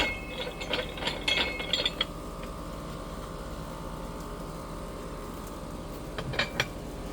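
A hand ratchet clicks in quick bursts while tightening a part on a 2003 Ford Escape. Close metallic ratcheting comes early and again near the end, over a steady low background hum, with no voices.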